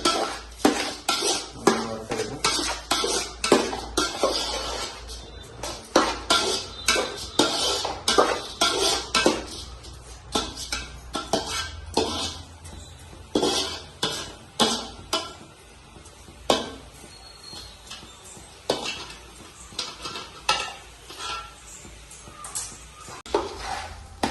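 Repeated scraping and clinking of a metal spoon against a pan as rice is roasted and stirred, in irregular bursts, near and fairly loud.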